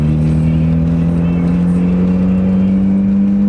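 A misbehaving Mazda Miata drives up the street, its engine a loud, steady droning hum with a slowly rising pitch that fills the whole stretch without a break.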